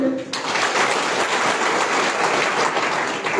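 A crowd at a political rally in Assam breaks into sustained clapping, a dense, even wash of applause that holds steady for a few seconds.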